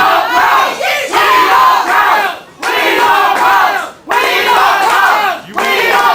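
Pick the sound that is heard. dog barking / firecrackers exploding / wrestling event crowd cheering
wrestling event crowd cheering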